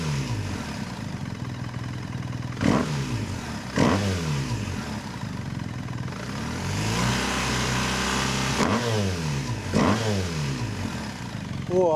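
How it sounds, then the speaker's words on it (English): A BMW R1300 GS motorcycle with an Akrapovic titanium full exhaust system and de-cat headers idles loudly up close, broken by several sharp throttle blips that rise and fall in pitch, two early and two late. "let's give it a bit of a blip and see what it sounds like"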